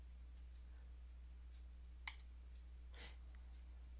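A single sharp computer mouse click sounds against a quiet background with a steady low electrical hum, followed about a second later by a softer second click.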